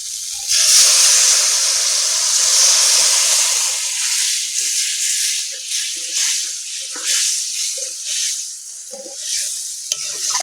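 Masala sizzles loudly as water hits the hot oil for a silver carp oil-jhal curry, a strong steamy hiss that settles into softer bubbling with small spatters and stirring clicks, no talk.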